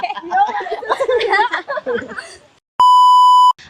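A bright electronic ding rings out once after a burst of cheerful chatter and giggling, clear and sustained for under a second.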